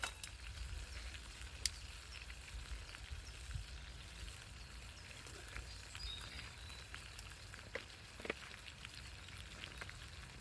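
A burger and sausages sizzle in a frying pan at a woodland wild camp, giving a faint, steady hiss with scattered small pops and crackles throughout, and no voices.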